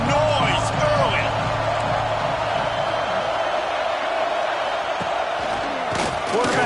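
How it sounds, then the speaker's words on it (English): Stadium crowd noise from a football video game roars as a dense, steady wall of cheering, loud and continuous, with a commentator's voice running over it. "This crowd bringing the energy and noise early."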